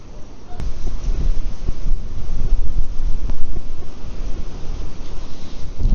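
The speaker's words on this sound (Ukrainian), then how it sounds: "Вітер прям сильний дує." Strong wind buffets the microphone in loud, rough gusts by the Seret river, with a low rumbling roar that rises and falls unevenly.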